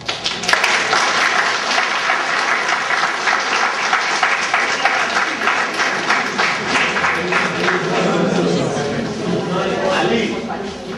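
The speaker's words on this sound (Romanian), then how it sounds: "să ne scuzați dacă nu pronunțăm foarte corect până acum și să ne aplaudați dacă merităm" Sustained audience applause fills a university rectorate ceremony hall, dense and steady clapping from a large crowd for about eleven seconds, with a murmur of voices mixed in.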